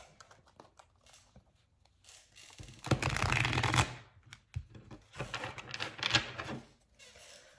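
Oracle cards are shuffled in close, papery bursts of riffling and sliding, loudest in two flurries separated by a short pause, with no talking.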